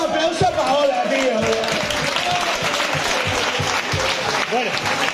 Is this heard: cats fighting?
no